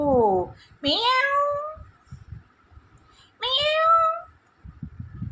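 A parrot mimics a cat's meow twice, each call a drawn-out, rising then falling mew, close and clear, with quiet pauses between.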